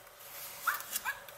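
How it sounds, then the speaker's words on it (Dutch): A children's sound book plays a short electronic dog bark when its button is pressed. The yips come in two or three quick, tinny bursts at close range. "Op, af, af. Dat is een hond."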